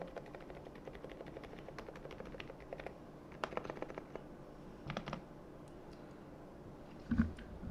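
Soft, muffled keystrokes on an EPOMAKER TH108 keyboard with silent switches tap quietly in irregular bursts, faint and close, with a slightly louder thump near the end.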